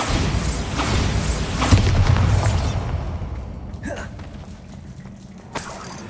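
Bombarda blasting spell cast in Hogwarts Legacy, a loud boom with crumbling debris over the first seconds, then the noise settling into quieter rumbles and a brief whoosh. No talk is heard.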